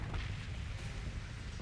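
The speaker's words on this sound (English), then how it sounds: "we're gonna hang back here and just use these hellbore cannons and chip away at the enemy" Hellbore cannons firing from a long-range bombarding ship in Starsector, a low rumbling boom that rolls on steadily at moderate volume without distinct separate blasts.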